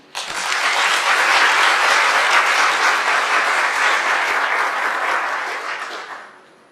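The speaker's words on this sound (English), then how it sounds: "Ladies and gentlemen, please give a warm round of applause for our esteemed colleague," Warm audience applause greets speaker Lilian Dudley at an inaugural lecture during a public health medicine plenary session, a steady dense clapping that swells quickly, holds for several seconds, then tapers away.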